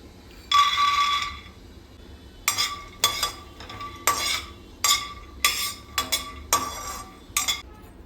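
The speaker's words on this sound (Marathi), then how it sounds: "तर आता हे सगळे इन्ग्रेडियंट्स एक एक करून मी भाजून घेते" Peanuts dry-roasting in a pan, heard as a series of sharp scraping and clinking stirs of a utensil against the metal, coming in irregular bursts with quiet gaps between them.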